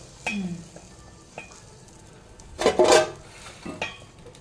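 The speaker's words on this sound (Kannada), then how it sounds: "ಅದನ್ನು ಇನ್ನೊಂದು ಪಾತ್ರೆಗೆ ಇವಾಗ ಟ್ರಾನ್ಸ್ಫರ್ ಮಾಡೋದು" Intermittent clinks and scrapes of utensils against pots, with one louder clattering scrape in the middle, fairly close.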